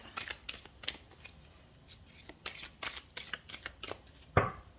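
Tarot cards shuffled by hand in quick papery riffles and slaps, close and fairly quiet, ending with a sharper snap as the deck is cut.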